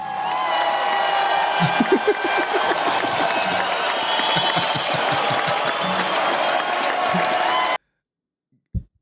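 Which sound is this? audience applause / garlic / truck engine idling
audience applause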